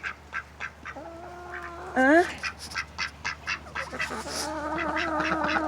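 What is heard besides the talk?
duck quacking in a chicken coop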